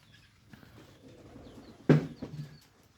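A soft rustle of pigeon wings flaps once sharply amid faint shuffling and quiet cooing, with a couple of smaller flutters after.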